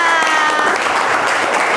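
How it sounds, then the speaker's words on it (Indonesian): A brief burst of clapping from a class of participants during a physics teaching session, dense and close, with a voice faintly heard over it. "Beri tepuk tangan untuk kita semua"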